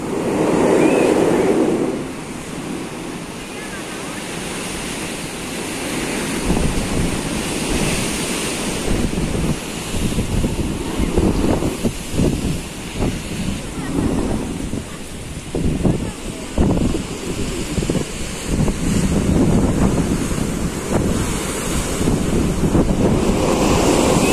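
Waves surge and break along the sea in Spain under heavy wind buffeting the microphone, a loud rolling roar with repeated crashes. A voice is faintly audible at times.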